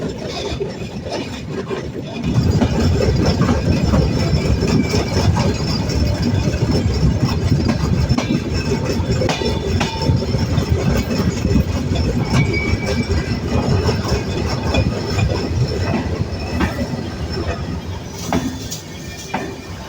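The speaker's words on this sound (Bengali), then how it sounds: "আমাদের সুন্দরবন এক্সপ্রেস ট্রেনটি এখন প্রবেশ করলো ফরিদপুরের ভাঙ্গা রেল স্টেশনে" The Sundarban Express rolls into Bhanga railway station in Faridpur at night, a steady loud rumble and wheel clatter running throughout with occasional metallic squeals, heard from aboard the train.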